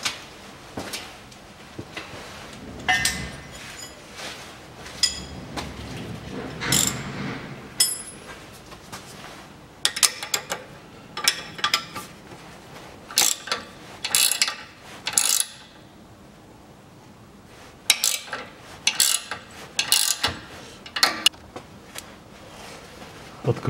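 Ratchet wrench turning a nut on the rear suspension of a Toyota Harrier, repeated bursts of metallic clicking with short pauses, close and moderately loud, with occasional clanks of tools and no talking.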